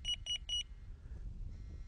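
A Delkim TX-i+ fishing bite alarm sounds once, giving three quick, loud high-pitched beeps in a row, then falling silent apart from faint handling noise.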